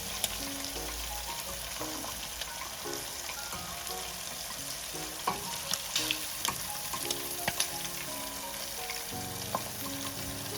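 Prawns frying in hot oil in a pan, a continuous loud sizzle and crackle with scattered pops, stirring clinks and soft background music throughout.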